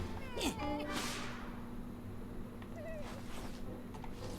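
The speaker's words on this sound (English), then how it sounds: "Ooh, cat." A cat in the video game Psychonauts 2 meows in a drawn-out, caterwauling cry near the start, then a fainter second meow follows over a low background hum.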